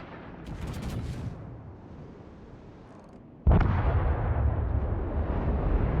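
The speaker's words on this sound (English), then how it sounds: "Shooting at a Des Moines face-on, probably a wasted salvo" Ship's main-battery salvo fired at a Des Moines cruiser in World of Warships: a sudden loud broadband boom midway, then a sustained heavy rumble, after quieter ambient battle noise.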